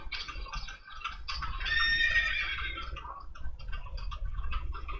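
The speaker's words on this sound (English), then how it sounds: "As you hear the ruckus and horses of carriages moving outside." Horses and carriages moving outside a mansion at night, with whinnying and neighing over a steady clatter and rumble of hooves and wheels, fairly close and continuous, with no voices.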